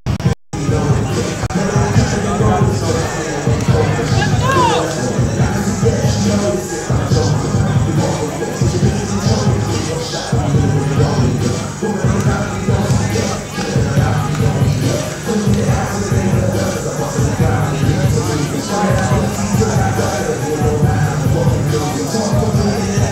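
Crowd at a live MMA event in the Michigan Battle League roars and cheers steadily, a dense wash of hubbub and yells with occasional bangs and a commentator-like voice mixed in throughout.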